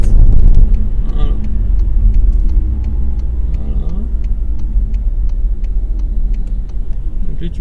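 A car accelerates hard on a straight during a driving lesson, its engine rumbling loudly and close throughout, with voices talking over it.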